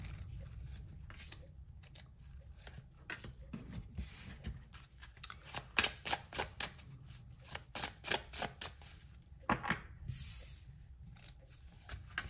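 Tarot cards shuffled and drawn for a weekly reading, heard as close, soft flicks and riffles that come in uneven clusters, then a final sharper swish.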